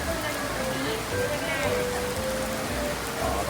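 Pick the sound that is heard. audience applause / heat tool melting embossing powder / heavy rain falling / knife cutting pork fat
heavy rain falling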